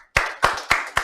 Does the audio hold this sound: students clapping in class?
yes